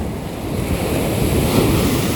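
Sea waves wash up onto a beach, a close, rushing surge that swells and rolls forward with wind buffeting in the background.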